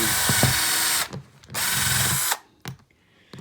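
A power drill whirs in two sustained bursts, each about a second long, drilling two holes at once in garden planting containers, followed by short clicks and a brief rev.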